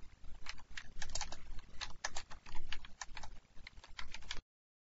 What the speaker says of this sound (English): When you actually type some things in